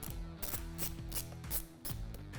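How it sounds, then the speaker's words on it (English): A hand ratchet clicks rapidly as bolts are tightened on a triple clamp steering damper of a KTM 790/890 Adventure motorcycle, several quick bursts of close metallic ratcheting strokes in a steady rhythm. "And tighten the bolts."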